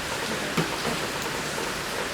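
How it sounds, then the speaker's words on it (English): Steady rain falls on an August Saturday, a soft even hiss of drops close by, alone with no talking. "and it's raining."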